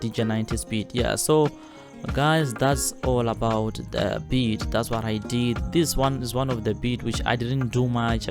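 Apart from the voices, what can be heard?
No everyday noise stands out behind the speech.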